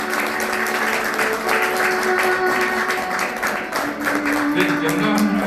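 Wedding guests in a hall keep up steady, loud applause through the whole stretch, with music or voices faintly beneath the clapping.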